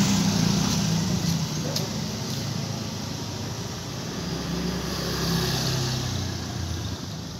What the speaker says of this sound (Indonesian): saya akan berangkat dengan menggunakan motor karena cukup dekat dari rumah